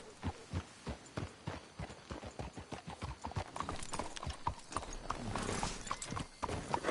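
Horses' hooves clip-clop steadily on the ground in Red Dead Redemption 2, a close rhythmic trot that grows busier and denser toward the end, with faint background game ambience.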